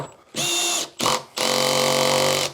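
A power drill drives a screw during router package assembly in three bursts: a short whine, a brief ratcheting clutch chatter, then a longer steady run, close and loud with no talk.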